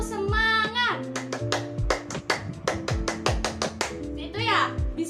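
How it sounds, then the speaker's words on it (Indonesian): High school students at SMAN 2 Jember perform a rhythmic clapping chant as a classroom ice breaker. Sharp, patterned claps and taps are punctuated by sung chant syllables, close and lively. "Tepuk semangat."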